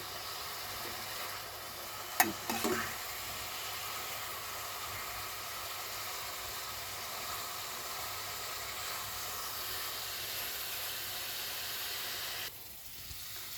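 Two pieces of hilsa fish fry steadily in a pan, a continuous sizzle with a few brief clinks early on, dropping away near the end.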